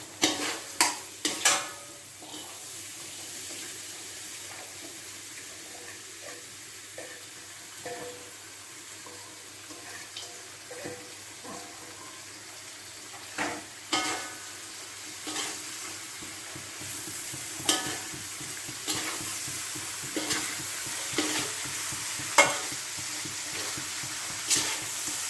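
Salted ginger and mango pieces stirred into spiced oil for a pickle, soft sizzling under intermittent scraping clatters of a spoon against the pan, fairly quiet and unhurried, with no voice.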